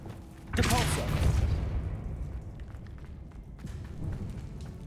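A Depulso spell is cast in the video game Hogwarts Legacy, landing as a sudden whooshing burst that rumbles and fades over a couple of seconds, followed by softer in-game effects and clatter.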